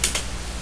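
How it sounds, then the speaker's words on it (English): A few quick keystrokes on a computer keyboard, a couple of crisp clicks close up in a brief burst. "we're just going to type something in"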